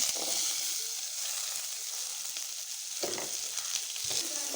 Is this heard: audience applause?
no